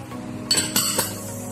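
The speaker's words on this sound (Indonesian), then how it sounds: "Kita campur di sini kentang kukusnya" A spoon clinks against a bowl while steamed potato is mixed with powdered milk and salt, giving a few short, close metallic taps and scrapes over a quiet kitchen background.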